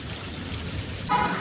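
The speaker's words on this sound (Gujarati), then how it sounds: "વરસાદ ફૂલ ચાલુ છે" Steady rain pours down during a storm in Bikaner, a dense continuous hiss of drops on surfaces with no pauses, close and fairly loud, with a slight surge near the end.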